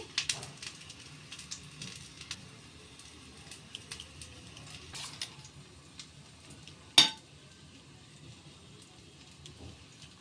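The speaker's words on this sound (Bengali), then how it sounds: "তেলটা গরম হয়ে গেছে এবার আমি একটাকে ছেড়ে দিচ্ছি" An ash gourd leaf fritter fries in hot oil with a faint, scattered sizzle and soft crackles, plus a sharp louder pop partway through.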